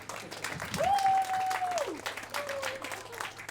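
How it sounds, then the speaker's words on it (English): An audience at a playwriting contest program applauds an actor, with moderate clapping that swells briefly and then thins, while a voice says a few words over it. "And, oh yes, a round of applause."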